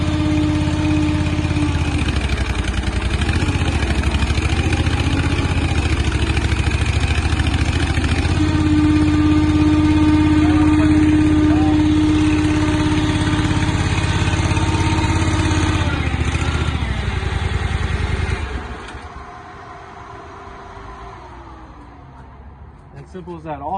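Electric-start engine on a portable concrete mixing trailer runs steadily and loud at a constant idle with harmonic hum, under a voice talking throughout, then cuts out near the end leaving quieter background.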